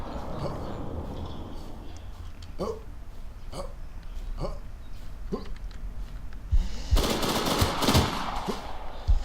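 Gunfire in the WarZ video game: a few sharp single shots spaced apart, then a denser loud burst of shooting near the end, with a player talking over it.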